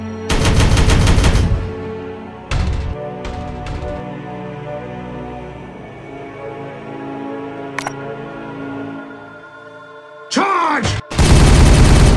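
Loud bursts of automatic gunfire from the Warhammer 40K Regicide video game, with heavy volleys at the start and end separated by shorter shots and quieter battle ambience.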